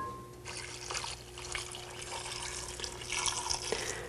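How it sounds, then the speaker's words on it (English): Broth is poured into a pot of Tuscan ribollita soup, a steady splashing trickle of liquid at moderate level with no talking. "And then we'll just add the rest of our broth."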